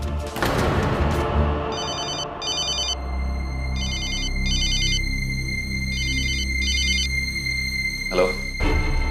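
An old landline telephone rings in repeated double electronic trills with short gaps between each pair, clear and close, over a low background rumble and a few thumps near the end.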